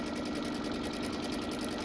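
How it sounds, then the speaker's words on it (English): A sewing machine stitches a curved Drunkard's Path quilt seam using its pivoting presser-foot feature, giving a steady, close, fast-running mechanical whir with an even stitching rhythm and no pauses or talk. "So it's going to sew nice and straight, and it's sewing a circle."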